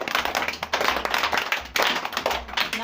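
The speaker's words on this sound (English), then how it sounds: "Clap for her." A small church or Sunday school group claps for a speaker, with close, busy handclaps that surge and dip in uneven waves over a few seconds.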